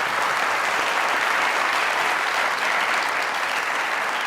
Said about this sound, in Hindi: चीमा साहब के लिए यार तालियां।